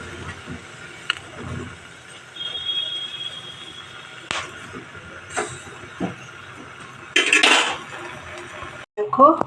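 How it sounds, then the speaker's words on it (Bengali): A metal spoon turns and scrapes pointed gourds roasting in a pan, giving scattered clinks and clatters of metal against cookware, with a louder burst of rattling near the end over a quiet kitchen background. "দেখো আমি উল্টিয়ে পাল্টিয়ে ভালো করে পটলগুলো পুড়িয়ে নিচ্ছি"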